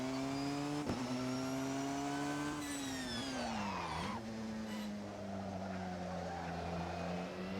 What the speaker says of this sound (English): This is the older Porsche car.